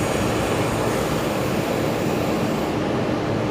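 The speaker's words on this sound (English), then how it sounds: "Jetstar A321 heading off there." A Jetstar Airbus A321 takes off at Brisbane Airport, a loud, steady jet engine roar filling the whole stretch without a break, broad and rushing, with no voices.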